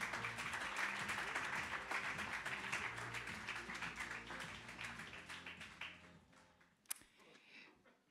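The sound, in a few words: audience applause for speaker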